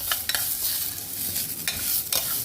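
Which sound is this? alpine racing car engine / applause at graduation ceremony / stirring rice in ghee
stirring rice in ghee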